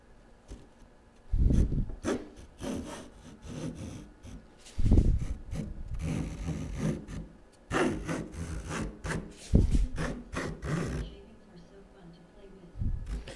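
Hand woodworking tool shaving wood into tight spiral curls, with repeated rasping cutting strokes in uneven bursts, close by, with a person talking between strokes.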